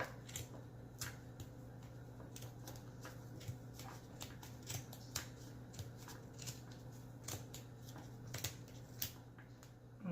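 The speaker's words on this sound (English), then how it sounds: "Make sure you have a sharp pair of scissors again." Sharp scissors snipping through material, a quiet series of irregular crisp cuts close by over a steady low electrical hum.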